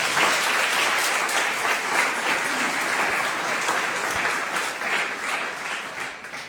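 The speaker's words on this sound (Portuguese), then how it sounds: "Você pode aplaudir o Senhor?" A church congregation claps and applauds in praise, dense sustained clapping from many hands that stays loud throughout and eases slightly near the end.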